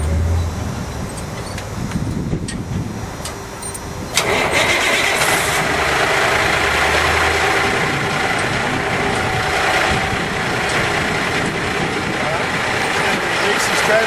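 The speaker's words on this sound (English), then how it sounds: "Now he's going to get in and start his truck" A large truck's diesel engine cranks and catches, then settles into a steady, loud idle that continues without a break.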